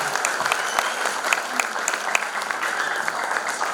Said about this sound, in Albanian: Me një duartrokitje të veçantë do doja t'i falenderoj të gjithë nxënësit që interpretuan deri tani